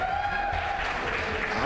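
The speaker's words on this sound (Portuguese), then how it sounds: "Aplausos." A live crowd at a professional Counter-Strike esports semifinal claps and cheers in a dense, continuous burst of applause.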